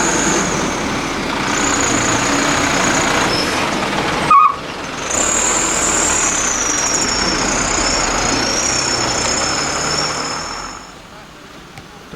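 Trucks sit idling during a windy rainstorm. Dense, steady rain and wind roar blankets a low engine rumble, with a brief thump partway through and a thin high whine over the later part.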